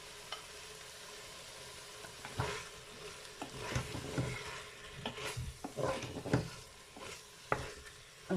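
Tomatoes and peppers frying in a Cookeo multicooker while a spoon stirs them, giving a steady sizzle with irregular scraping and clinking strokes close by; no talking.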